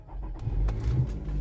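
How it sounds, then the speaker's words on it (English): A 2016 Nissan Rogue engine starts up close by: a short stutter of starter cranking catches into a low, steady idle, with no talking. "I'm gonna start my car."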